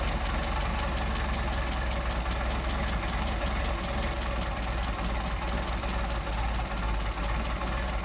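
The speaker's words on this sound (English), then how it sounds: "Just for fun, let's see how low we can go in terms of an idle." A Mercedes 190SL engine on Solex carburetors idles very low, around 500 RPM, with a steady, loud, continuous low rumble and faint uneven pulsing throughout, no voices.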